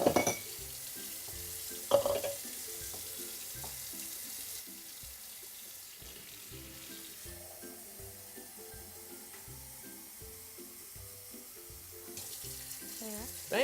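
Water runs steadily from a kitchen tap into a sink, a quiet continuous hiss with a few clunks and splashes near the start and end.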